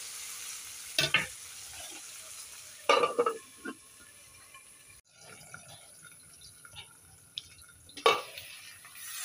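Food frying and being stirred in a pan while cooking a roselle-flower dish with potatoes: soft sizzling under a few short scraping stirs and clinks, fairly quiet and close.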